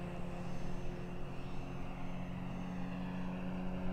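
Large RC Tiger Moth biplane model with a 2150 mm wingspan droning through the air, a steady moderate engine and propeller hum held evenly throughout with no speech.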